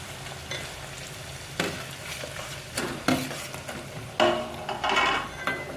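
Tomatoes fry in a pan on a gas stove for kaju gathiya sabzi, giving a steady soft sizzle, while a spoon scrapes and stirs, adding intermittent clinks and thumps against the pan.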